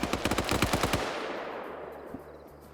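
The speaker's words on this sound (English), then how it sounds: "ooh, gunfire." Rapid bursts of machine-gun fire ring out in the video game Black Ops 2 during a raid on a compound, about a dozen loud, evenly spaced shots in the first second, then a long reverberant decay with faint distant pops.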